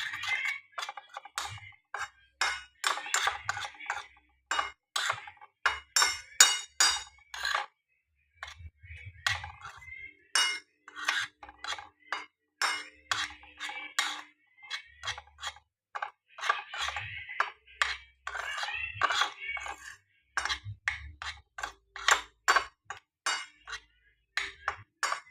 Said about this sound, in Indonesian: Dan ini juga bawang putih bubuknya kita taruh sini juga. Setelah itu kita aduk ya.